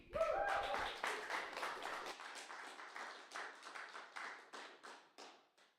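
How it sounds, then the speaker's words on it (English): Small audience applause at an open mic night, a burst of mixed clapping and a brief voice at the start that thins into a few scattered, rhythmic claps fading away toward the end. "round of applause for Keith"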